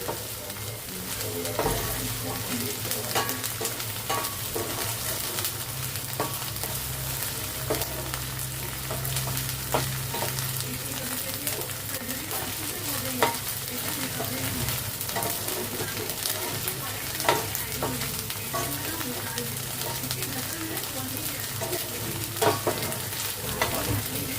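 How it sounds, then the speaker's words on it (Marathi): Chopped onions fry and sizzle in an oil-filled pan while being cooked down for a spicy prawn masala, a steady close crackling hiss with occasional stirring scrapes, no voices. "चर चर चर चर आवाज आला पाहिजे बघा असा मस्त कांदा शिजला पाहिजे"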